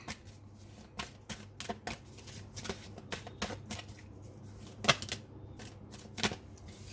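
Tarot cards being shuffled make a quiet run of quick papery riffles and flicks in uneven bursts, close by and alone.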